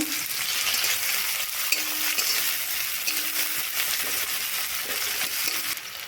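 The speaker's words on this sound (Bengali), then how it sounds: "তেল গরম হয়ে গেছে, আমি এক বাটি পেঁয়াজ কুচানো নিয়েছি, ওটা দেব।" Chopped onions fry in hot mustard oil left over from frying eggs, producing a loud, steady, close sizzle with occasional light stirring scrapes and no talking.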